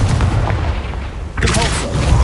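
A Confringo blasting spell bursts in the Hogwarts Legacy video game, a loud booming blast that rings out in a sudden broadband burst over continuous low rumble, with spell-casting noise around it.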